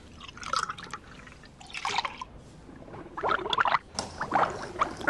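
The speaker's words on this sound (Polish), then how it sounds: "Robią się bąbelki." Milk being mixed bubbles and drips in bursts, with wet gurgling splashes coming in irregular clusters, fairly close and alone.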